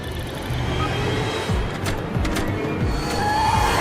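A car chase in a TV show: engines roar and tyres squeal and skid in short bursts over a dense, constant rumble of traffic and action soundtrack.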